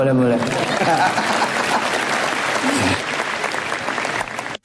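Seminar audience applauding in a large hall, a thick sustained clatter of clapping that starts under a brief voice, holds steady, then thins and drops away near the end.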